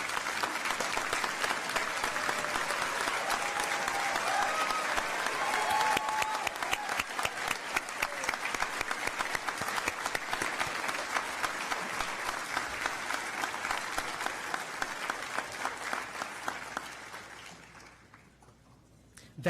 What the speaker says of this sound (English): everybody to stand now and clap their hands